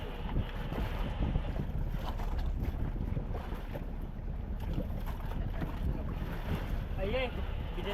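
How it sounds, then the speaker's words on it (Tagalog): A large boat's engine rumbles steadily as it passes, with wind buffeting the microphone and water sloshing throughout. "Malaking bangka din yun."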